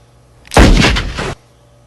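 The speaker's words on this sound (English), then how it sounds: "he does so by shooting it in the chest with a pulse cannon" A pulse cannon from the film Pacific Rim fires one loud, close, explosive burst lasting under a second, with a sharp onset and a short rumbling tail, heard alone.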